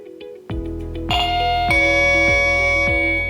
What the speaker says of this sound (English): A ding-dong tone indicates that the chime has entered into the pair mode.